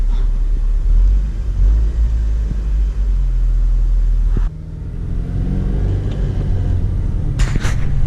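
A Honda Civic Si that is running poorly and jerks on throttle makes a loud, close engine rumble, idling and then revving, with a sharp shift in tone partway through.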